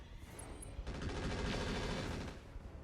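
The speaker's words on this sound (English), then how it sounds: "Oh no, not machine guns." Machine gun fire in the mech game RogueTech, a dense, continuous rattle of rapid shots that kicks in after a brief buildup and keeps hammering loudly for about two seconds.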